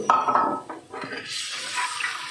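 Water splashes and pours from a cup into a pan for pearl spot fish curry, with a couple of metal clinks, then a softer running trickle continues.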